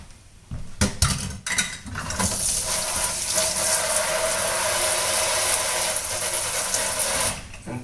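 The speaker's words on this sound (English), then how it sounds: "so I can wash my fingers and wash my knife and my cutting board" Running tap water pours steadily over a knife and cutting board in a kitchen sink, a loud continuous rush after a few opening clatters, close by with no talking.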